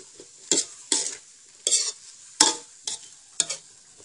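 Cauliflower and minced pork are stir-fried in a pan, with six or so distinct, rhythmic bursts of sizzling and spatula scraping over a quiet background.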